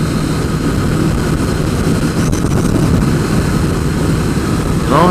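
A 1000cc sport motorcycle at speed, its engine holding a loud, steady high-rpm roar with heavy wind rush, close and continuous throughout. A short rising whine comes near the end.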